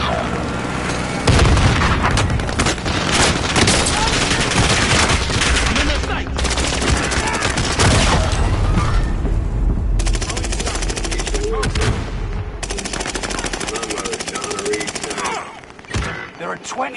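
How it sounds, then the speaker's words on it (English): Call of Duty Warzone Pacific battle: sustained loud machine-gun bursts and gunfire with booming explosions from an allied precision airstrike, dense and continuous throughout, with brief lulls near the end. "Allied precision airstrike incoming."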